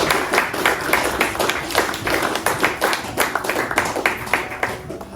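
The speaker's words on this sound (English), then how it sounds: "if you'd like to give a round of applause for Usman Ali" A small audience claps for a speaker at a foundation's careers event, a close, fairly sparse round of hand claps with distinct individual slaps, steady throughout and easing slightly at the end.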